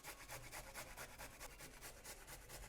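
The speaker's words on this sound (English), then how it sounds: "I am going to grate 1 inch of this ginger now" Fresh ginger is rubbed against a grater in quick, regular back-and-forth strokes, a soft close scraping rasp repeating about five times a second, faint and with no talk.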